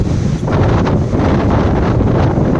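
Strong April wind buffets the microphone at a riverbank, a loud, continuous rumbling roar with gusty swells and no voices.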